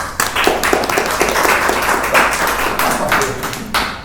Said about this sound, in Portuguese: Merece uma salva de palmas.